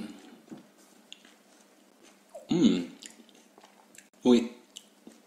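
Two bursts of close, wet chewing as walnut kernels with tomato and basil are bitten and mashed, separated by quiet pauses with faint background noise.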